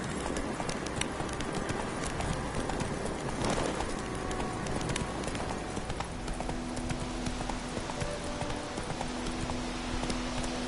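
Horse hooves clip-clop steadily at a trot in The Witcher 3, the rhythmic footfalls continuous and fairly close, with faint birdsong in the background.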